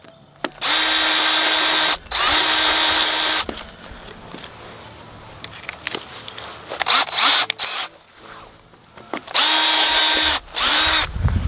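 A power drill bores holes while building a raised garden bed on a UK allotment, giving several loud, close whirring bursts of a second or two each, separated by short pauses and light handling noise.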